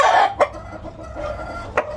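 Imported breeder chickens on a small farm give a loud, close cluck and a short crow, followed by softer clucks and a final sharp call.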